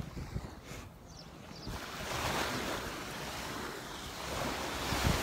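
Ocean surf rolling onto the sand at Crystal Beach in Destin, Florida, a steady wash of breaking waves with some wind rumble against the microphone, continuous and moderately loud with no talking.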